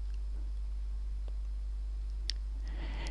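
Computer keyboard keys pressed for a Shift plus F11 shortcut in Excel: a couple of soft, isolated clicks over a quiet background with a low steady hum, no voices.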